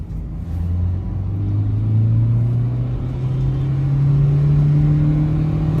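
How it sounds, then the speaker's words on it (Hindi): A Toyota Etios diesel car accelerating in second gear, its engine rumbling and rising steadily in pitch, heard loud and close from inside the cabin with no talk. "मैं यहाँ पे आपको थोड़ा सा एक्सेलरेट करके दिखा सकता हूँ।"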